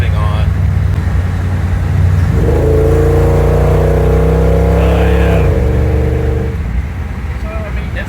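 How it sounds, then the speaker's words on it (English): A 1950 Ford F1 restomod pickup cruises with its air conditioning running, the engine giving a steady, loud low drone inside the cab that briefly rises in pitch before easing back. "Cruising around in a 74-year-old truck with air conditioning on."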